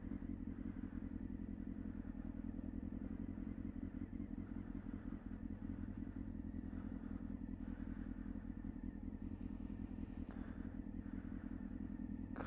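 A motorcycle rides slowly on snow and ice, its engine a steady low chugging drone that stays even and fairly faint throughout, with occasional light clatter.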